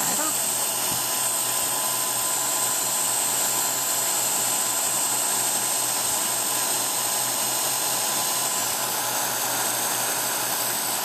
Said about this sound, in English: I'm not that patient, so I have a heat tool.